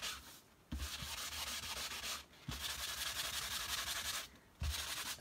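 A sanding block scrapes back and forth across stiff foil cardstock in three long, even strokes, each a dry, raspy rub separated by brief pauses.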